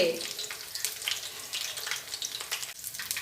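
Shapla (water lily) fritters sizzle in hot oil for a steady crackling frying sound, close and fairly soft, with small pops throughout.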